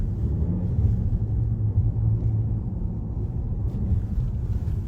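Steady low rumble of road and engine noise inside a 2025 Toyota Camry Hybrid as it gathers speed, a continuous even drone with faint wind hiss and no talking.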